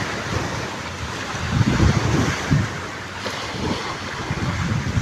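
Sea waves wash onto a beach in steady, rolling surges, with wind buffeting the microphone throughout and a couple of louder breaking swells.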